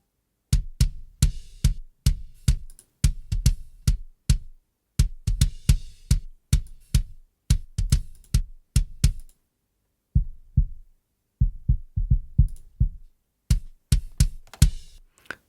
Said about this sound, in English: it's just shortening the low end of this inside bass drum microphone